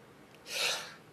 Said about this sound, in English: I just got done mowing the lawn, so I'm sneezing like crazy